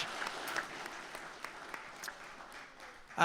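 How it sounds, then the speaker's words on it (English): A community forum audience gives a round of applause in a hall. The clapping is thin and scattered, fading from sparse claps toward quiet before a sudden louder burst at the end. "let's give them a round of applause"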